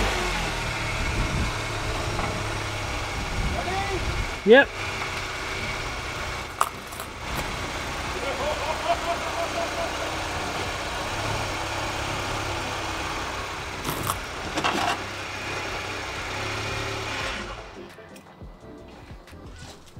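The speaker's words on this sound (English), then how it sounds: "So let me go back up my car real fast." A car engine idles steadily through most of the span, carried over a stress-tested microphone while the car backs up, with a few sharp knocks and clatters along the way and a brief spoken word before it cuts off near the end.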